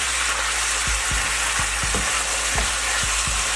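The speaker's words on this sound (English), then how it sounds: "So you keep on stirring it till it browns." Ground beef browns in extra virgin olive oil, a loud dense sizzle running without a break, punctuated by a series of spoon knocks and scrapes as the meat is stirred.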